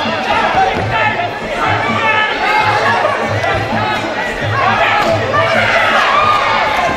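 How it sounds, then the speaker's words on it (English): Fight crowd at a Roar Combat League kickboxing event, a dense steady roar of chatter and cheering from a packed arena that swells briefly, with a commentator's voice running over it. "Crowd getting behind their boy."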